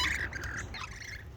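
Wild birds at a feeder give harsh, close squawks in quick succession, loud and raspy, with no speech.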